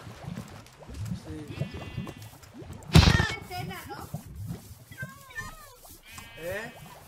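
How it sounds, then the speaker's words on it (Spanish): Sheep in the video game Minecraft bleat several times in short wavering calls, mixed with a sharp hit sound and other game effects while people talk over them. "Mira estas ovejas. Cambian de colores."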